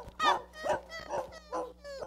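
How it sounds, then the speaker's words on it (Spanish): A neighbour's dog barks next door during a thunderstorm, four or five evenly spaced yelping barks at moderate distance with no talk over them. "Se escucha el perro del vecino ladrar."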